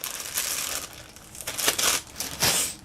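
Plastic bags holding Star Wars action figures crinkle and crackle in close, uneven bursts as they are handled, with short pauses between the rustles and no talking over them.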